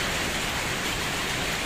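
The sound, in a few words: rain falling at Phuoc Son monastery, Vietnam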